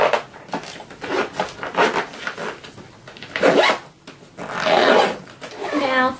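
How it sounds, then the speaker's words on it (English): Zipper being pulled closed on a makeup kit bag, several quick rasping strokes of a zip at close range, with some rustling between pulls and no talk. "And then I just go back in like this and zip up."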